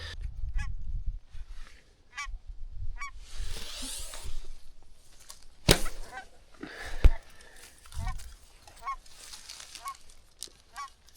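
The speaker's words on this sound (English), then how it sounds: "a lot of these geese have been landing on the right side, left side" Wild geese honk repeatedly from a hunting spot where flocks are landing, calls coming in scattered bursts at middle distance, with wind rumble and a few sharp knocks close by.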